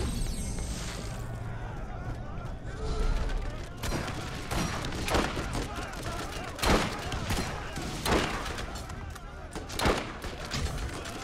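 Rapid gunfire in the video game Borderlands, with repeated sharp bursts over a dense, busy game soundscape while a player talks over the shooting.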